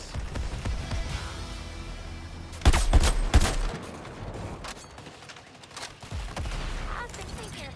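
Bursts of gunfire during a Suicide Squad: Kill The Justice League battle, a few sharp loud volleys in the middle over a busy background of game effects and faint voices.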